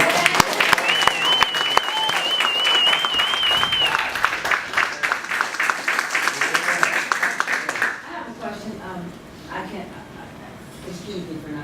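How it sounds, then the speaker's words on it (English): A church audience gives a warm round of applause at a 2018 Seed Folk presentation, sharp clapping for about eight seconds that then fades as a speaker begins talking. "Can we get one more round of applause just for the church?"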